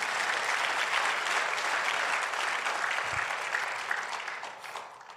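An audience applauds steadily throughout a Tagalog sermon on divine healing and miracles, the clapping dense and sustained for several seconds before fading slightly at the end.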